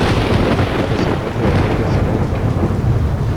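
Deep, rumbling explosion blasts roll on continuously at close range, a dense low boom with crackling debris, in a Call of Duty: Roads to Victory battle.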